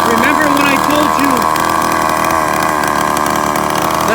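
A Rovan Baja 45cc gas-powered RC car engine with loose exhaust bolts runs loudly and close, a raspy buzzing two-stroke drone that holds steady throughout with slight revving wobble.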